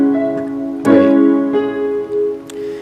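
Piano with both hands sounding chords, a bass note under right-hand notes, struck in three distinct beats with sustained ringing tones between, clear and close.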